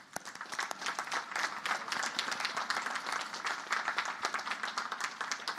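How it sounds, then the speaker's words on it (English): Even, sustained applause fills a hall at a Naval Academy commissioning ceremony honoring distinguished graduates, a soft but continuous crowd of many hands clapping without pause. "Please join me in recognizing and applauding these distinguished graduates."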